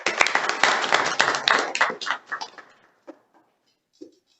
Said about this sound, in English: I want everyone to clap.